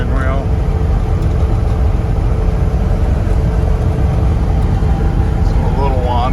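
A lifted 1972 Chevrolet K10 pickup on oversized tires cruising down a road, a loud steady engine and road rumble filling the cabin continuously, with a voice speaking briefly over it.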